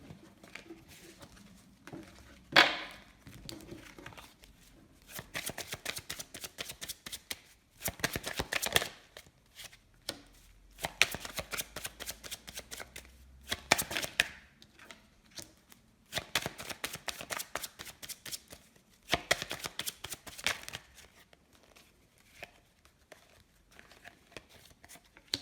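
Tarot cards being shuffled, repeated crisp riffling bursts of a few seconds each, separated by quieter pauses and soft handling, close and moderately quiet across the whole stretch.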